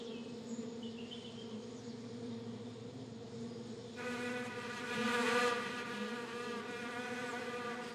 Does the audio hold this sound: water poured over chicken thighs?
no